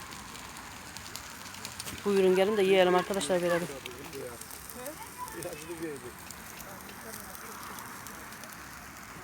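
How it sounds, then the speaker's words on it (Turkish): A charcoal fire burns in a mangal barbecue grill outdoors in a city forest, giving a steady low crackling hiss throughout, while someone talks briefly over it. "Şöyle arkadaşlar mangalı yaktık."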